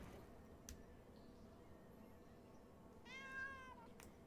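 A cat gives one faint, short meow near the end over a quiet, hissy indoor background, with a couple of soft clicks earlier and no talking.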